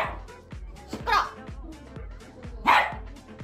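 A dog barks in short sharp bursts, several times in quick succession and fairly close, mixed with excited shouting and laughter from people nearby.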